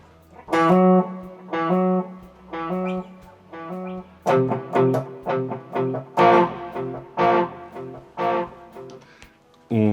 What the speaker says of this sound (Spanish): Estoy oyendo este amplificador con el reverb de aquí, del multi-efectos, y con todos los efectos que quiera poner. Por ejemplo, voy a ponerle un delay.